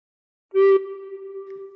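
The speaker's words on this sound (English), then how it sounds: "put fingers 1 to 3 on holes 1 to 3 and blow once" One recorder note, fingered with the thumb hole and holes 1 to 3 closed, starts after a short silence with a bright attack, then holds as a steady, clear tone that tapers off gradually, with no other sounds.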